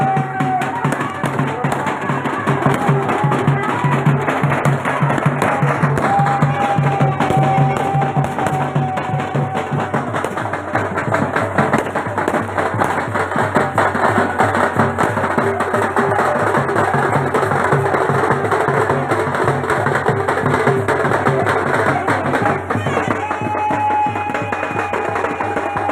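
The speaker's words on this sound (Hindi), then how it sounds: "आतिशबाजी का नजारा।" Continuous crackling and popping bursts of Dussehra festival fireworks go on throughout, with a dense rumbling background and occasional faint whistles.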